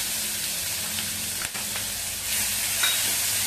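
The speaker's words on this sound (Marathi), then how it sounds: "आणि चांगलं परतवून घ्यायचंय तेलामध्ये" Crushed green chili thecha sizzles and fries in hot oil with bloomed cumin seeds for a fasting batata vada, a steady close hiss with brief stirring scrapes and no voices.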